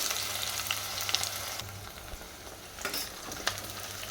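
Chopped onions sizzle steadily in hot oil for a crab curry, with a few stirring scrapes and clinks over the continuous frying hiss; close and moderately loud, no talking.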